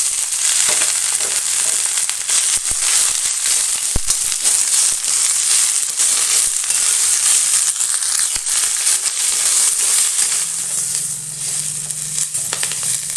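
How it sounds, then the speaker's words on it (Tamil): Drumstick leaves sautéing in a pan, a loud steady close sizzle with crackling throughout and occasional stirring knocks, no talk. "கீரையை வதக்கிக்கலாம்."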